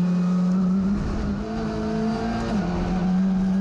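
A TCR touring race car at Circuit Paul Ricard, heard onboard at full throttle through a fast chicane: a loud, steady engine drone with a slight pitch dip and recovery, close and continuous.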